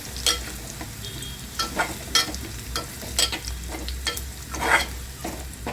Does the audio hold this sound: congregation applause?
no